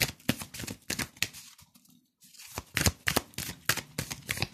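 Playing cards shuffled and drawn in quick riffling bursts, a crisp flurry, a short pause near the middle, then more rapid shuffling, close and alone with no voices.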